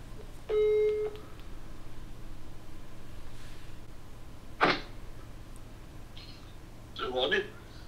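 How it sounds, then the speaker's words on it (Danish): A phone dials out for a call to wish someone happy birthday: a short steady tone, then two brief bursts of signal over a constant low background hum, with no talking. "Vi skal lige give Ronny et kald her"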